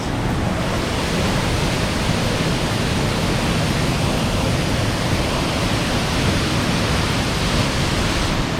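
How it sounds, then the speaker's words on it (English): A large waterfall in Valencia, Negros Oriental, Philippines roars steadily and loudly, a dense unbroken rush of falling water with no voices, close and constant throughout. "This is a hidden exclusive waterfall that you guys are gonna see first."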